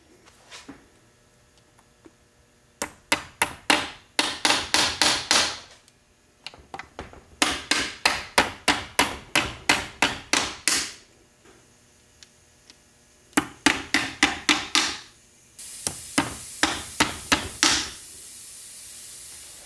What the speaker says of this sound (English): Now I'm going to just put the three dowel pins back in.